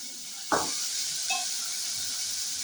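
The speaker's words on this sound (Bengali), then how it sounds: "দেখুন কেমনভাবে ভাজছে" Paneer fried rice fries in a pan with a faint, even sizzle and hiss, broken by a sharp utensil knock and a second, softer clink.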